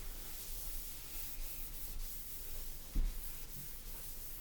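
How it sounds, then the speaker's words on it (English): A washcloth scrubs a bathroom countertop in soft, steady rubbing strokes, faint and close, with a small bump partway through. "I'm going to use this to scrub the countertop"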